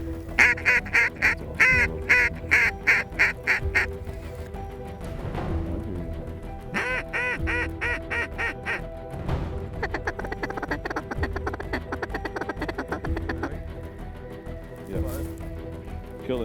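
Mallard ducks quack in repeated bursts over a barley field with decoys set out, the calls loud and close at first, then continuing in ragged volleys with people talking in between.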